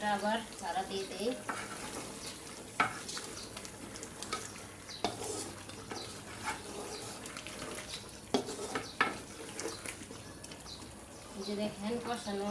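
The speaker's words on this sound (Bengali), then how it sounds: "গরুর মাংসটা আবার নাড়া দিয়ে দিই।" Beef curry frying in a pot, steady sizzling with recurring scrapes and knocks of a stirring spoon, close up, while someone talks at the start and end.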